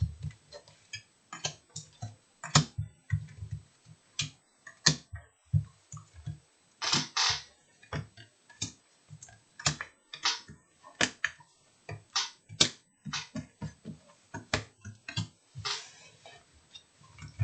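Tarot cards being shuffled by hand, a run of crisp, irregular snaps and light clicks spaced through the stretch, close and fairly quiet with no talking.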